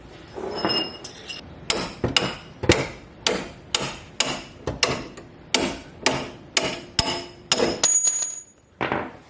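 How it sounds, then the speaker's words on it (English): Sharp metal-on-metal hammer strikes land one after another, about a dozen, loud and close, as a pin drives out a suspension bolt during a coilover install on a 1996 SC300, ending with a brief scrape. "we're going to use a little pin and hammer to get the bolt out from where it's at"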